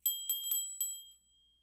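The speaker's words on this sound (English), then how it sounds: "We're going to use the Buddhist bell as we continue." A Buddhist bell is struck four or five times in quick succession, each bright metallic ring clear and close, with a steady high tone lingering between strikes before fading out.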